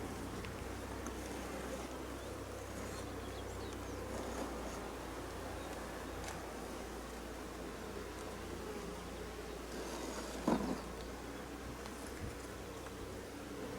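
Honeybees hum softly and continuously around an opened hive during a spring inspection, a faint steady drone with a brief louder knock near the end.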